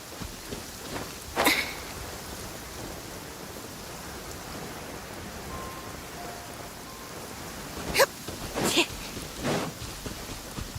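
Soft, steady rain in the game Honkai Star Rail or Genshin Impact, a faint even hiss interrupted by a few brief louder bursts of other sounds.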